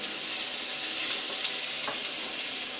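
Pork belly sears in a dry pan with no oil, giving a continuous bright sizzle and hiss at close range, fairly loud and even, with a faint clink partway through and no speech.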